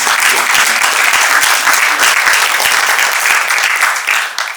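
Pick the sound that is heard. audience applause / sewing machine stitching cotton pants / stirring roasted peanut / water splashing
audience applause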